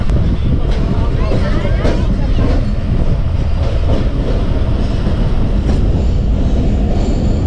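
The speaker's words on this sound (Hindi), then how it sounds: "पूरे 8:58 पे हमारी गाड़ी शालीमार एक्सप्रेस 27 अप अप्रोच कर रही है मुल्तान रेलवे स्टेशन पर" Shalimar Express 27 Up, a passenger train, approaching Multan railway station, with a steady loud rumble of wheels on rails and faint squeals and clacks throughout, voices murmuring beneath the noise.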